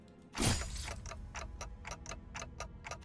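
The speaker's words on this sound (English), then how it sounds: "all I can hear is the clock ticking" Steady clock ticking inside a Guilty Gear video game, a regular run of crisp, evenly spaced ticks after a brief loud burst at the start, with no talking.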